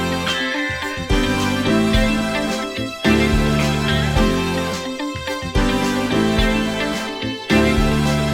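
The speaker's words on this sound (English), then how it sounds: "the whole song started with this disco sample that I made in another project, and it sounds like this" A disco sample built in a production project plays as looped music with steady beats and sustained harmonic chords, loud and continuous, with no voices.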